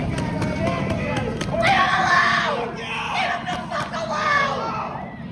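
Crowd screeching and screaming during an arrest, rising and falling in several loud waves of high shrill voices with sharp clicks over a busy background.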